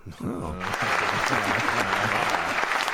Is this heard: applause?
yes